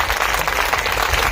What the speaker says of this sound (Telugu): మీకు మీరే ఒకసారి గట్టిగా చప్పట్లు కొట్టుకోండి